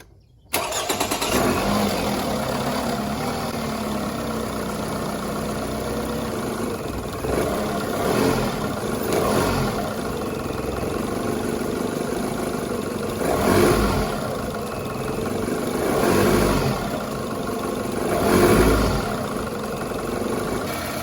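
A fixed-up car's engine starting with a quick crank, then idling and revving in several swells as it is put in gear and brake torqued, heard close with no talk.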